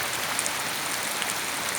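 Heavy rain pours steadily in Pattani town, a dense continuous hiss heard close by through an open window, with no voices over it.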